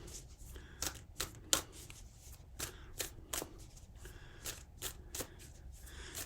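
Moonology oracle cards shuffled close by, a steady series of crisp overhand flicks and riffles in an even rhythm with no talking.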